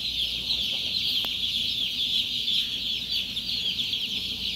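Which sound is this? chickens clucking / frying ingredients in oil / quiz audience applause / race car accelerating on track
chickens clucking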